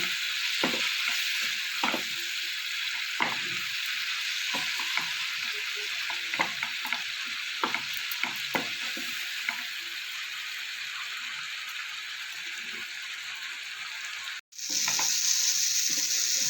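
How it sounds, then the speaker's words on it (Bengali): Spice masala sizzles and fries in a pan with a splash of water for a cauliflower and egg curry, a dense steady crackle with scattered stirring scrapes, cutting out briefly near the end before resuming. "একটু সামান্য জল দিলাম এই মশলাটা কষিয়ে নেবো"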